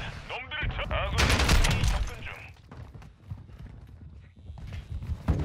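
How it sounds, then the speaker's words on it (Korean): Rapid footsteps clatter in Call of Duty: Modern Warfare II, a burst of close, busy stepping sounds mixed with other game noise and a speaking voice. "아 뭔가 발소리 엄청 나왔네?"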